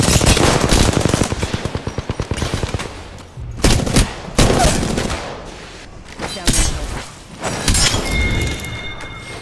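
Automatic weapons fire in Apex Legends, loud and close: fast rattling bursts that stutter and then stop, with separate heavy shots and a glassy shattering crack near the end.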